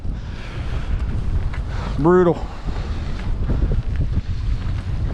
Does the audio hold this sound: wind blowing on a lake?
yes